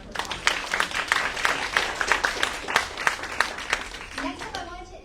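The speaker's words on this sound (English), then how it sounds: "So we could just give a round of applause to our co-sponsors." An audience at a climate justice townhall claps in a light, scattered round of applause that fades out, with a voice starting up at the end.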